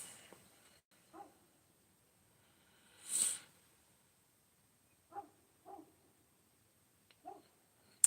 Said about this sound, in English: the neighbor's dogs are not happy right now